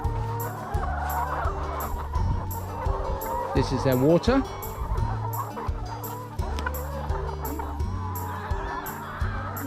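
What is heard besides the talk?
chickens clucking at a chicken farm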